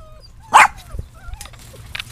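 Boston Lab dogs, a small lab and Boston Terrier mix, give a single sharp close bark followed by faint yips and whimpers outdoors in the heat.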